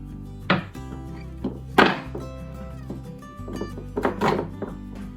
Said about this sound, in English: I've just chopped up some chocolate